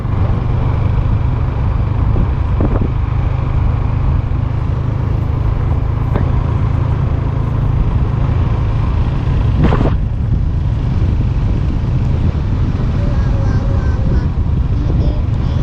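A vehicle engine drones steadily with a low, continuous rumble throughout the ride, broken only by a few brief clicks and knocks.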